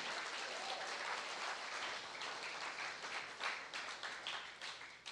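A church congregation claps continuously, a dense, steady patter of many hands applauding at a moderate distance, with no voices standing out.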